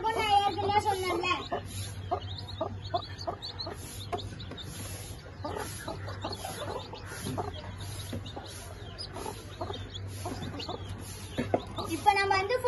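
Hen and newly hatched chicks from an incubator cluck and peep steadily close by while they are moved into a cage, with a low hum beneath and a person talking over them.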